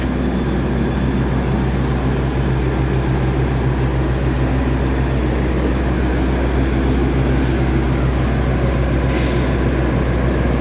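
A locomotive rumbles steadily nearby at the head of a Parahyangan passenger train, a constant deep engine drone with a faint hiss of air, no voices.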